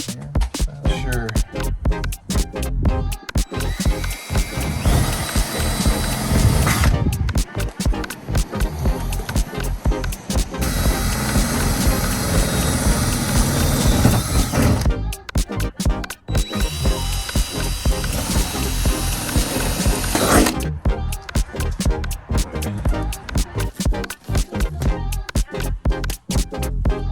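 Loud, sustained whirring of a power drill boring into aluminum on a campervan in long bursts, separated by short pauses, close by.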